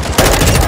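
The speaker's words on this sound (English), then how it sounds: "You are taking effective fire." Automatic gunfire in the video game Call of Duty DMZ: a loud, dense burst of rapid shots kicking in abruptly after a brief quieter lead-in and continuing to the end, with no voices.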